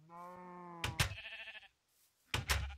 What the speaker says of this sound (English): It is an orange sheep farm.